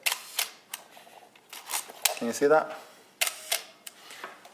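Olympus OM-1 film SLR giving a series of small mechanical shutter and aperture clicks, with one longer whirring release in the middle, heard close up while someone talks.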